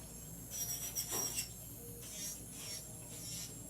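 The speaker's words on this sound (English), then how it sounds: "When I use my carbide bit that's very sharp" Carbide nail drill bit filing acrylic nails, a soft high rasping whir in short passes, loudest in the first second and a half, then a steadier light grinding hum.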